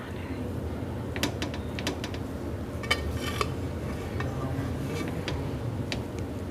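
A spoon stirs cooked matar aloo pulao, rice with peas and potatoes, in a pot, giving scattered light metallic clinks and scrapes over a soft steady background hiss.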